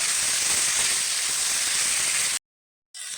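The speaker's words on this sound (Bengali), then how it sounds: "এবার আমি আলু আর ঝিঙেটা দিয়ে দিচ্ছি একটু নেড়ে করে নেব" Potato and ridge gourd pieces hitting hot spiced oil in a pan, a dense steady sizzle and hiss that cuts out briefly near the end, then resumes.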